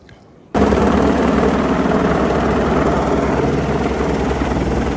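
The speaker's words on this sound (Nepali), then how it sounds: "हेलिकप्टर ओए धुलो उड्यो" A helicopter starts up loud and close on a Langtang trekking route between Ghodatabela and Kyanjin Gompa, a sudden steady rotor roar and chop that holds without a break, kicking up dust.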